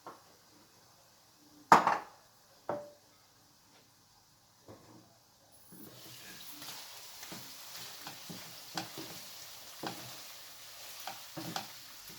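Liver pieces fry in butter in a pan, a steady soft sizzle settling in after a few sharp utensil knocks and clinks against the cookware; occasional scraping and stirring taps punctuate the continuous frying hiss.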